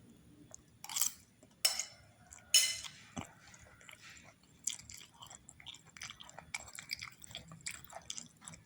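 Close, wet chewing and soft biting of stir-fried young papaya, with intermittent smacking and small clicks of cutlery over several seconds, no talking.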